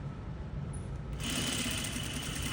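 A sewing machine runs steadily, stitching boning down a seam, its motor hum growing louder and busier partway through and continuing without pause to the end.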